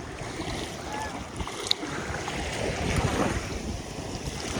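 Surf and wind at Boracay beach in the Philippines on an evening with nobody around, a steady wash of waves blended with gusty microphone wind noise throughout.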